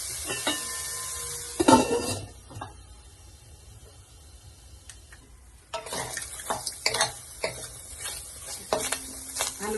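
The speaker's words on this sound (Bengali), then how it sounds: "এই লবণ দিয়ে ভালো করে নেড়ে ঢাকা দিয়ে রাখবো" Salted oil being stirred in a pan before greens (beto shak) go in, with soft scraping and light sizzling in bursts near the start and again in the second half, a quieter stretch between.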